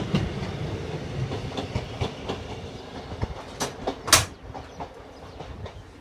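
Class 153 diesel units 153313 and 153383 on a Lincoln to Peterborough service pass Sleaford West signal box, with rhythmic clickety-clack of wheels over rail joints and a rumbling passage at moderate distance.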